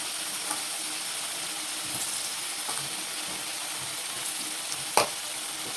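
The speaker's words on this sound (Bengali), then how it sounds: "চিংড়ি মাছ ভেজে নিয়েছি, এবার এই তেলে আলুগুলো ছেড়ে দেবো।" Potatoes frying in hot oil, the same oil just used for prawns, in a home kitchen: a steady soft sizzle with a few stirring clinks and one sharp spatter near the end, no talking.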